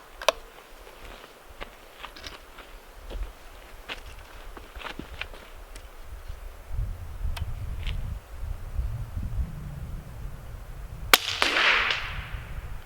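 A suppressed CZ 457 rifle fires CCI Suppressor ammunition: a few quiet, sharp cracks spaced far apart, with faint clicks and handling noise between them in a fairly hushed setting.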